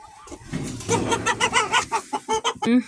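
A rooster gives a run of quick, close clucks in a rhythmic series, growing slightly louder toward the end.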